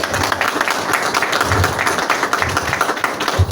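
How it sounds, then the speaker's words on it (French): Audience applause at an evening awards ceremony honoring young people, as a woman is called up to receive a prize. A steady wash of many hands clapping fills the whole stretch at a fairly loud, even level. "Sous vos applaudissements."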